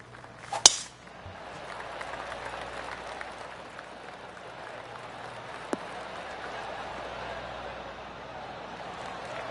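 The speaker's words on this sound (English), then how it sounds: "Oh, golf clap." Golf gallery in PGA Tour 2K23 at the Valspar Championship gives soft, polite clapping, a quiet steady patter at a distance with a brief sharp crack near the start and commentary-style talk mixed in.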